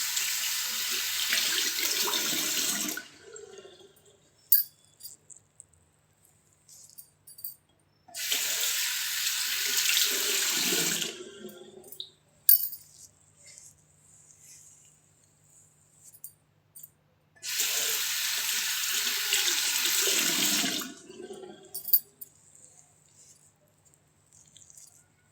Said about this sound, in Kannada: ನೀಟಾಗಿ ಒಂದ್ಸಲ ಫೇಸ್ ವಾಶ್ ಮಾಡ್ಕೊಳ್ತೀನಿ.